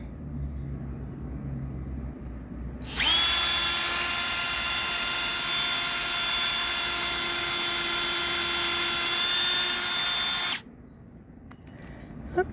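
A power drill bores through a cabbage being prepared to hang for chickens, its loud, steady high whine running unbroken for about seven seconds before it cuts off, with quiet room noise before and after.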